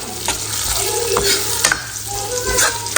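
Prawns sizzle in a thick masala while being stirred, with a steady hiss broken by scraping utensil strokes, close and fairly loud, no talking.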